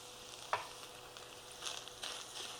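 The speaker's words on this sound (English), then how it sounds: "We're going to cook this for 30 seconds just to release the flavors of the garlic into the ground beef and onion." Minced garlic cooking with ground beef and onion in a skillet, a faint steady sizzle broken by one sharp utensil knock and a couple of soft stirring scrapes.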